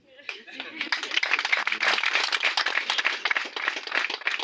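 An audience clapping at a tenth-anniversary celebration of a savings group, a few words of speech at the start, then a dense, sustained round of applause at moderate level.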